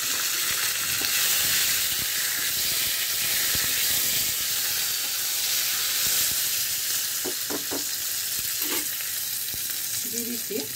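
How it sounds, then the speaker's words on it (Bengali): Curry leaves and green chillies sizzle in hot oil for sabji khichuri, a steady close hiss with scattered crackles and pops throughout. "আর দিয়ে দিচ্ছি কারি পাতা, কাঁচা লঙ্কাটা একটু ফোড়ে দেবো।"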